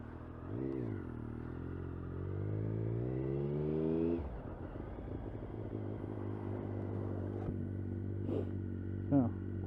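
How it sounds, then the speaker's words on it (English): Motorcycle engine heard from the rider's helmet with the visor open, a steady droning whine that rises in pitch as it accelerates, then settles into a rough rumbling cruise with wind noise and a few clunks, and some speech mixed in. "See what it sounds like, riding with the visor open at the moment."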